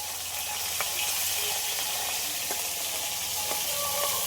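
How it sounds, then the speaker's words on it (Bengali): Silver carp fish heads fry in hot oil in a kadai, a steady loud hiss of sizzling with scattered pops and crackles, no voices. "তেলটা গরম হয়ে গেছে, এবার মাছের মাথাগুলো ভেজে নেব।"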